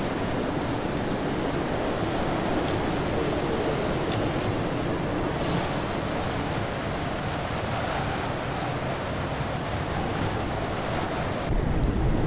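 In the Train Simulator 2018 game on the Mittenwaldbahn line, a train runs with a steady, loud rumble of wheels on rail, with high squealing tones and a constant rushing noise throughout and no one speaking.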